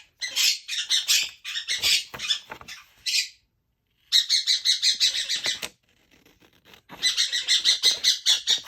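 A pet bird chirps and squawks in rapid, bright repeated bursts close by, in several runs separated by short pauses, with no talking.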